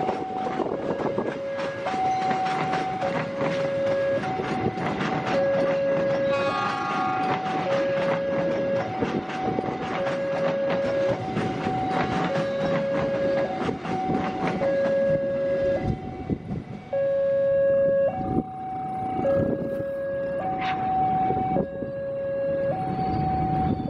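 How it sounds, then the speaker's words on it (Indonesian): A parcel train runs past a railway line in Indonesia, its loud continuous rumble and wheel clatter filling the whole stretch while a two-tone horn or warning signal sounds repeatedly over it, steady and close throughout. "Kereta api parsel sudah melintas di sini ya, sudah berangkat."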